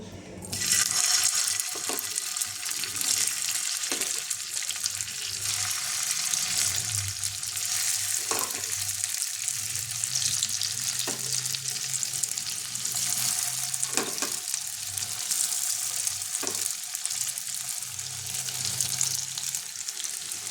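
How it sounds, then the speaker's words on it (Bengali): Pumpkin tikli frying slowly in a pan, a steady broadband sizzle that runs the whole time, with occasional soft clinks of a utensil and faint low hum underneath. "আমি এগুলো একটু আস্তে আস্তে ভাজছি, তাহলে ভেতরটা ভালো ভাজা হবে।"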